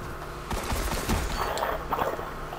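Rapid sidearm gunfire in the video game Destiny, a burst of close, sharp shots over busy game background noise.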